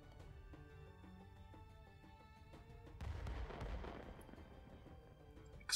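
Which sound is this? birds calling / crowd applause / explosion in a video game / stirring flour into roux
explosion in a video game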